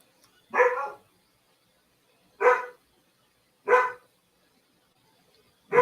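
A dog barks four times close by, single sharp barks spaced irregularly with quiet between them.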